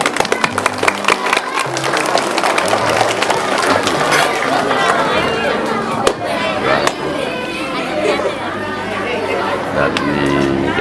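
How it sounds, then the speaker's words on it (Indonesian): Clapping from children and adults at an Indonesian primary school awards ceremony, sharp scattered hand claps over lively crowd chatter and talk, continuing unevenly throughout. "Beri tepuk tangan."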